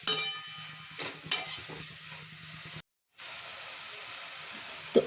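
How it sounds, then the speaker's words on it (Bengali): Drumstick flowers being stirred as they fry in a pan over a high gas flame, with steady sizzling and a few scraping stirs, close up. A short silent gap breaks it, then the sizzle resumes. "এটা একটু ভালোভাবে নাড়াচাড়া করবেন, একটু গ্যাসটা জোর দিয়ে"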